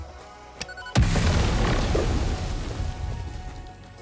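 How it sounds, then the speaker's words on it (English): Explosion in the factory-building video game Satisfactory, a sudden loud boom after a small knock, followed by a long rumbling roar that slowly fades. "If you hear explosions, don't worry."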